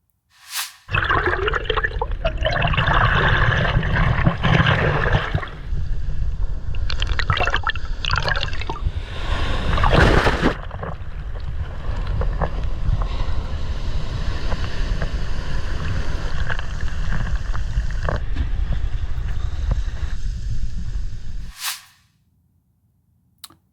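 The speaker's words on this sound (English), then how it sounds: "captured this footage of illegal immigrants arriving on a speedboat and jumping on shore" A speedboat running up to a beach as people jump ashore. Loud rushing water and engine wash fill most of the clip, with splashing bursts around the middle, before everything cuts off abruptly near the end.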